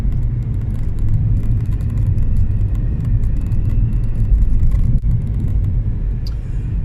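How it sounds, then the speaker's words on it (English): A car travels along an unfamiliar country road, its engine and tyre rumble forming a loud, constant low drone from inside the cabin, with a brief knock partway through. "I'm driving down the road I've never been down before"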